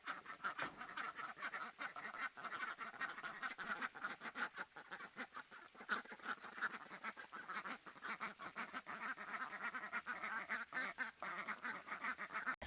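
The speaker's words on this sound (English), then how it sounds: "just listening to these guys, they sure do sound like they're quacking" Farm ducks quack steadily in a dense, continuous chorus, a busy flock close by with no talking over it.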